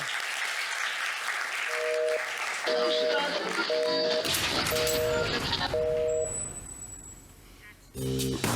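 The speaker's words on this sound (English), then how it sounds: "give her a big round of applause" A live audience at a Mojo conference bursts into loud, sustained applause, clapping filling the room for several seconds before fading, with a musical jingle and brief electronic tones heard over the crowd.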